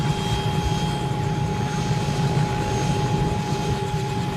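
A helicopter carrying a bride and groom to a wedding in Barmer drones steadily with a low, even engine hum and a faint whine, moderately loud and unbroken, with no talk.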